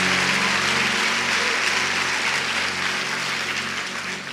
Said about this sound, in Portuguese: Pode aplaudir a Jesus por isso, pode aplaudir a Ele.